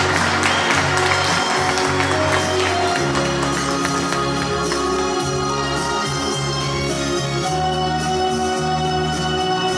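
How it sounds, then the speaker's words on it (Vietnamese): An audience applauds a singer at a Vu Lan festival concert at Huệ Quang temple, with clapping heaviest at the start over loud ongoing music with a strong bass line. "một tràng pháo tay dành cho anh ạ"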